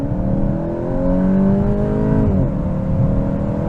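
A 2022 VW Golf GTI mk8 pulls away hard under launch control, its engine loud and close, the pitch climbing steadily, then dropping briefly at a gear change before rising again.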